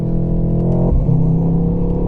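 A car engine revs hard and close, its droning growl climbing and dipping in pitch over a couple of seconds.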